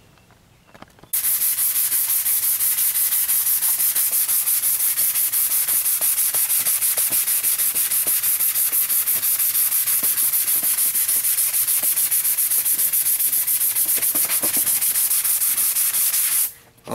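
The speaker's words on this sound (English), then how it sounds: "this sanding sponge. It's for drywall, sanding drywall." Steady, loud abrasive rubbing of a drywall sanding sponge scrubbing back and forth across a motorcycle part being prepared for paint, continuous for most of the clip with a brief quiet start and end.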